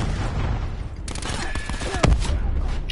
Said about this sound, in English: Oh, he shot us both with a war machine